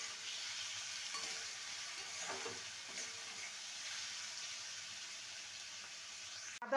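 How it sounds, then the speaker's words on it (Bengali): Egg ghugni cooking in a pan with ginger, garlic and melted tomato as salt is stirred in, a continuous gentle sizzle and hiss with faint spoon scrapes, ending in a sharp clack. "লবণ দিয়ে ভালো করে নেড়ে নেব"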